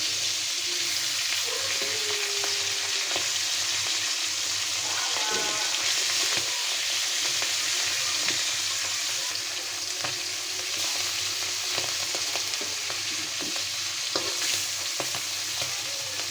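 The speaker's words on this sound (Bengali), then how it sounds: "মাছটা আমি হালকা ভাজা করে দিব" Fish lightly frying in oil in a pan gives a steady, close sizzle throughout, with occasional clicks and taps of stirring.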